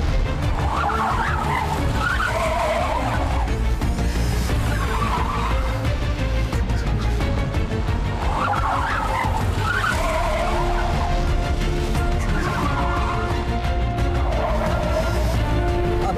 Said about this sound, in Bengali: স্যার গাড়ি ব্রেক ফেল করেছে।